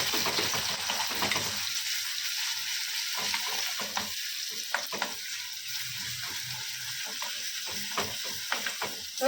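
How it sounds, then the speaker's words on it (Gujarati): Garlic and ginger paste sizzling with cumin in a pan over low heat, with a steady close-up frying hiss and occasional spoon clicks and scrapes, and no talking. "હવે તેની અંદર આપણે જે લસણ અને આદુની જે પેસ્ટ બનાવી હતી તે એની અંદર એડ કરી દઈશું"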